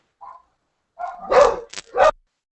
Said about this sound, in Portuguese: Tem uns cães pentecostais aí latindo.